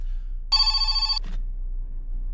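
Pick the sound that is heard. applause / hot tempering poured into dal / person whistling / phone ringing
phone ringing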